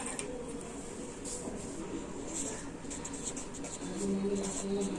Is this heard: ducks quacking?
no